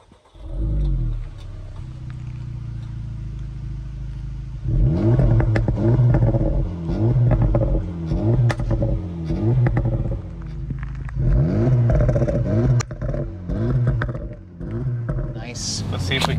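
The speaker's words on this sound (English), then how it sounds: "this thing in Sport Plus makes some mean pops and crackles from the exhaust" A 2024 Acura Integra Type S with active exhaust in Sport Plus mode revs repeatedly from a stop, its engine note climbing and falling in rising sweeps, with a few sharp exhaust pops near the end.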